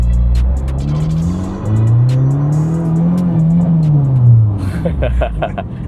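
A modified Honda Jazz GE8 tuned to 480 hp revs hard under acceleration, its loud engine note climbing and falling from inside the car while people talk over it.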